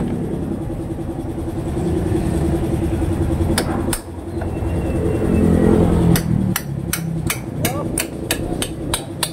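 Sharp metallic hammer strikes ring out, a couple of single blows and then a rapid series of evenly spaced hits, over a low engine rumble.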